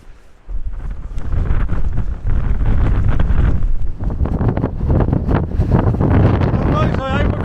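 Strong wind buffets the microphone in loud, continuous gusts for nearly the whole stretch outdoors near a castle, with someone briefly talking beneath the roar.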